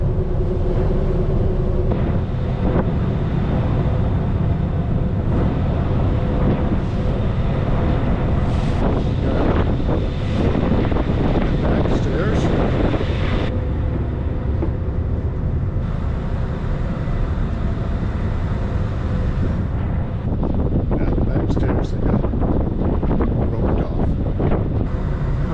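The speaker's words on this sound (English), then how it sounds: "It's a little windy out here." Steady wind buffets the microphone on the open deck of a Lake Champlain ferry running at full speed, a constant loud rush with gusty swells and the low rumble of the vessel and water underneath.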